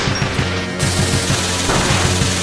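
Rapid shots ping against Sigma's shield in the Mega Man X3 final boss fight, a quick rhythmic stream of hits over the game's music, continuous and close.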